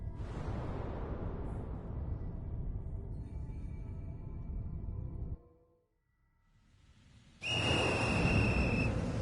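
In the Ghostwire: Tokyo video game, the monstrous little raincoat visitor blows a whistle. A dark, low ambient rumble fades to near silence, then a sharp, sustained high whistle tone rings out loudly.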